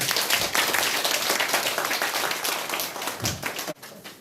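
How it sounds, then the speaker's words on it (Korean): Audience applause at a school project briefing, welcoming an architect and adjunct professor: dense, steady clapping from a crowd that fills most of the stretch, then drops away abruptly near the end. "큰 박수 부탁드리겠습니다"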